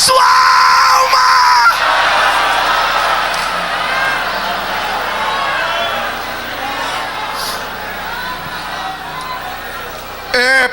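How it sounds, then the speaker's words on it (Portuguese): Church congregation in a Pentecostal preaching service shouting and crying out glory to God, a loud, sustained mass of yelling voices that swells, then eases slightly throughout, with brief louder outbursts at the start and end. "jogue essa mão para cima, dá um grito de glória a Deus"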